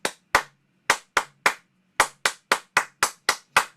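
Hands clap a syncopated rhythm, about a dozen crisp, close claps in uneven groupings, alone with no talking.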